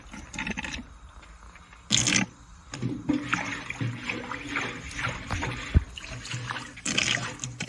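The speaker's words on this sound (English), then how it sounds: "That's the water draining." Water trickles and splashes steadily from an antique hand-cranked wooden washing machine's tub, with a few scraping knocks and brief louder gushes, close by.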